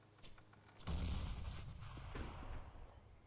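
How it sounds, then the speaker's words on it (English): A thrown grenade bursts in a video game, a deep rumbling boom that swells and rolls on for a few seconds, heard faintly at low level. "I am throwing a grenade. Grenade out."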